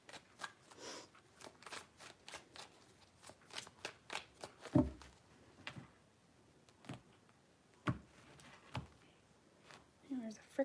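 Tarot cards being shuffled in quick bursts of crisp riffling clicks, a few separate shuffles with brief pauses between, close and fairly quiet.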